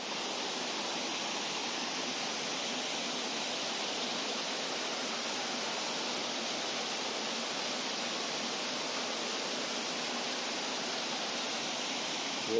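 Rushing water near a double-decker living root bridge in Meghalaya roars continuously, a dense, even hiss that never lets up, with no voices over it.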